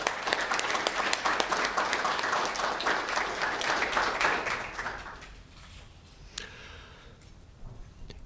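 An audience gives a round of applause to welcome a speaker at a gallery talk, with dense, loud clapping that lasts about five seconds, then thins out and fades to scattered claps and room noise.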